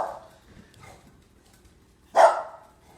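Dogs bark in a home kitchen while a Thanksgiving salad is being mixed, a single loud, sharp bark near the end of a quiet stretch after a few faint murmurs.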